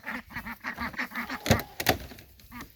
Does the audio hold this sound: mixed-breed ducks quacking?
yes